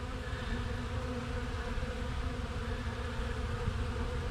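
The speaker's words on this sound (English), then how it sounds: "Bees are starting to congregate." Honeybees buzzing around a hive in a continuous, dense drone from many insects at once, moderately quiet and close, with no talk.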